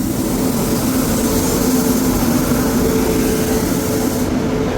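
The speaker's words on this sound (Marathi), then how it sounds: "ट्रेन आली आहे आणि आपण ट्रेनमध्ये बसलेलो आहे" A steady, loud rumble of a train arriving, heard from aboard, with a constant mechanical drone and no speech.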